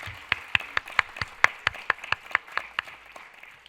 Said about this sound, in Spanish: que se oiga ese aplauso